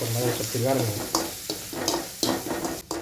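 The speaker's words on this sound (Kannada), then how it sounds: "ಸಾಸಿವೆ ಜೀರಿಗೆ ಹಾಕೊಂಡಿವಿ" Mustard seeds and cumin spluttering in hot oil in a pan for Maggi noodles, a close sizzle with crackles and spatula scrapes, while someone talks over it.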